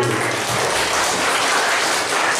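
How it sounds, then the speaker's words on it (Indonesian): Junior high school students applauding in a classroom or hall, a steady dense wash of clapping that holds at a constant level without pause. "Tepuk tangan dulu."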